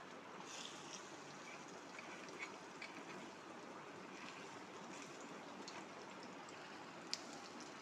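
Rice and bitter gourd fritters fry over low heat in a pan, giving a faint, steady hiss and soft bubbling that continues evenly without any talk.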